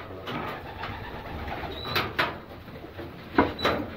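Racing pigeons coo softly and steadily in a loft, with a few sharper wing flaps or perch knocks standing out over the low murmuring of the flock.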